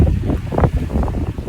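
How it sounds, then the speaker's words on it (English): Wind outdoors on an open field during hawk training, a short loud buffeting gust rumbling hard against the microphone with no voices. "Oh, that's windy."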